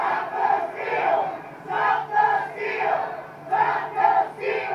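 A rioting mob crowds the east side of the Capitol, a dense roar of many shouting voices rising and falling in repeated surges, loud and close throughout.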